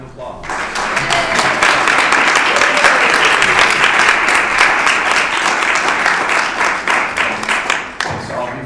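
An audience at a Sunday adult education gathering applauds the speakers, a dense, steady round of clapping that holds strong for about seven seconds before thinning out near the end.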